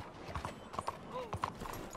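Horse hooves clip-clop in an irregular run of soft, close steps in Red Dead Redemption 2, with a brief whinny-like tone partway through and no talking.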